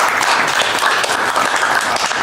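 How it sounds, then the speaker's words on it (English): Conference audience applauding, a dense and steady wash of many hands clapping at close range, loud and unbroken throughout. "Big round of applause for both organizations."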